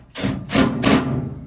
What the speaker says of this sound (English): we're going to put our 2 Phillips head screws back in spot there